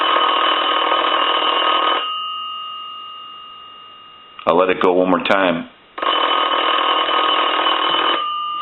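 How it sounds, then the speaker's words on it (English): A rotary desk telephone's bell rings in loud, sustained bursts, stopping briefly while someone speaks between rings before it starts again. "we're going to go ahead and ring the telephone"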